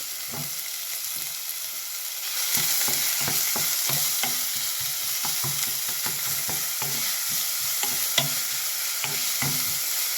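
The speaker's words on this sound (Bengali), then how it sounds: "পেঁয়াজগুলো দিয়ে দেবো ভাজার জন্য" White onions frying in oil in a pan for a ghugni breakfast, a steady close sizzle that grows louder partway through, with repeated scraping taps of a spatula stirring them; no voices.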